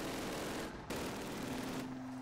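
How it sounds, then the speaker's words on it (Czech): Continuous machine gun fire from Call of Duty, a dense, unbroken rattle of rapid shots at low volume, briefly cut off partway through before resuming just as thickly. "Ten kulomet mě šve"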